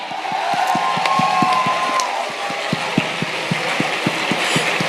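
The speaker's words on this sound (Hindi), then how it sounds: "एक जोरदार तालियां म्यूजिक के साथ" Loud crowd applause and cheering in a hall blends with a steady rhythmic music beat, thumping pulses ticking evenly under a dense wash of clapping throughout.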